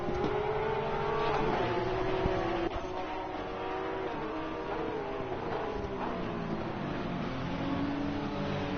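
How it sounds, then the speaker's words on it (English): Race cars in Assetto Corsa Competizione, a simulated motorsport cup qualifying session, roar steadily with sustained engine tones that rise and fall through gear changes, several cars close together and loud throughout. "Goalie has found a way past Dan then."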